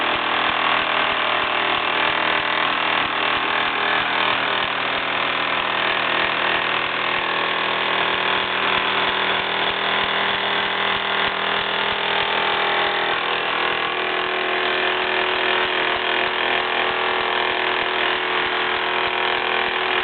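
A 1953 Mamod SE1 toy steam engine running flat out with no regulator, driving a hammer in a Meccano workshop; a continuous fast whirring, chuffing mechanical drone, loud, steady and close, with no talk.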